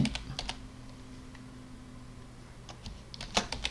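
Keys tapping on a computer keyboard as a file name is typed, with a short cluster of quick clicks, a quiet pause under low room hum, then another brief flurry of keystrokes, close but soft.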